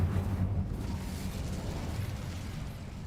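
An Incendio fire spell blasts in Hogwarts Legacy, a deep rumbling burst that is strongest at the start, then a sustained low roar that fades slightly over a few seconds, with no voices.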